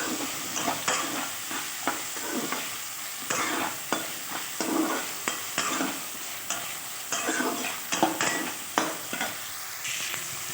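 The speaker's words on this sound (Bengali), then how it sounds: "এক চামচ ছোটো চামচের লবণ আর হাফ হলুদ দিয়েছি, হাফ চামচের মতো দিয়ে ভালো করে এটা একটু নেড়ে চেড়ে নেব।" Vegetables seasoned with salt and turmeric are stirred in a frying pan, a soft steady sizzle broken by repeated scraping strokes of the spoon at an irregular rhythm, close up and without talk.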